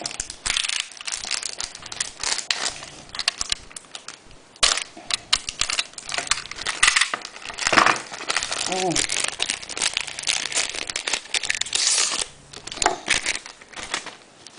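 A parcel of paintbrushes is torn open and unwrapped, giving continuous close crinkling and crumpling of packaging with sharp rustles and taps, while a voice speaks at times.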